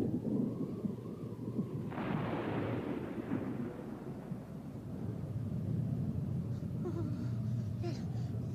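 A deep rumble of thunder rolls in over steady stormy background noise, swelling and fading gradually; no clear speech.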